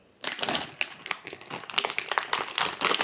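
Crinkling plastic packet of candies being handled and unwrapped up close, a steady run of sharp rustles and crackles with no talking.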